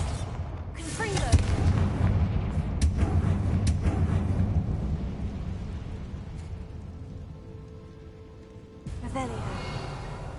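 Confringo fire spell blasts in Hogwarts Legacy, loud booming bursts near the start and again near the end over a rumbling game soundscape, with a voice talking over the action.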